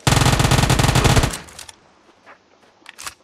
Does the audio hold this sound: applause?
no